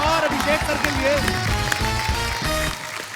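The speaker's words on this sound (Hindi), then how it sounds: "जोरदार तालियां एक बार अजय सर और अभिषेक सर के लिए।" Studio audience clapping on a comedy talk show to welcome guests, the applause mixed with music and voices and fading toward the end.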